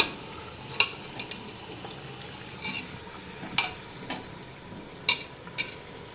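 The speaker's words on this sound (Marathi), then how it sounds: "त्याला आपण व्यवस्थित तेलामध्ये परतून घेऊ, जेणेकरून सगळीकडे तेल लागेल" Chicken being stirred in oil in a pan, with scattered spoon clicks and scraping over a faint, steady sizzle. There is no talking.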